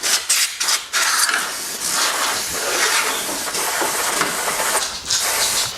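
A can of compressed air blasts a loud, steady hiss inside a gaming PC, with brief breaks and sputters early on before one long continuous spray, up close.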